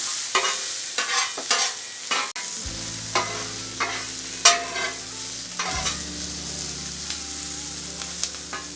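Onions sizzle on a hot griddle while a spatula scrapes and pushes them across the surface in repeated short strokes over a steady frying hiss, with no talking.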